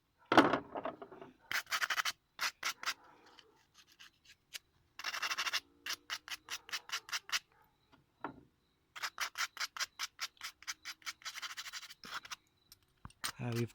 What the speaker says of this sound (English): so we will be using this sandpaper to clean them